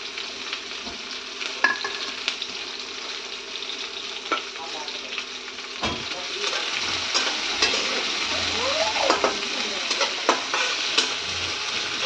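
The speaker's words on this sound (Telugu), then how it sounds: "ఇప్పుడు ముందుగా కట్ చేసి పెట్టుకున్న ఉల్లిపాయ ముక్కలు, పచ్చిమిర్చి కలుపుకోండి." Chopped onions and green chillies frying in oil for a jackfruit seed curry, a steady broadband sizzle throughout with occasional stirring scrapes and clicks, getting a little louder and busier in the second half, no talking.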